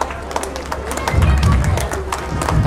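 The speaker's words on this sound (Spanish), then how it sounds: "Fuerte aplauso para nuestra compañera" An audience at a San Sebastián Mártir community gathering in Guadalupe Nogales claps together, a dense patter of hands that swells partway through, with crowd murmur and voices underneath.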